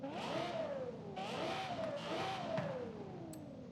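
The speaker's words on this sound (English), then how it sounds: "Oh wait, you can rev the engine now, can't you?" A Lexus LFA in the Forza Horizon 5 racing game revs repeatedly, its engine pitch rising and falling in smooth sweeping waves, clear and moderately loud with no talk.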